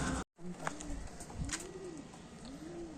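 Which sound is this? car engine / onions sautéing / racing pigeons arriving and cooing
racing pigeons arriving and cooing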